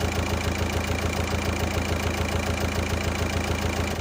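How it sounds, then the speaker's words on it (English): A Volkswagen Passat turbo engine idles steadily after repair, with a close, even, continuous rumble and regular low pulses, free of rattling, and no talking. "we could finally start up the Passat"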